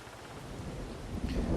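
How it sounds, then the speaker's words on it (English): Steady rain with a low rumble of thunder in the video game Farming Simulator 22, a continuous hiss that swells slightly louder toward the end. "It's still raining."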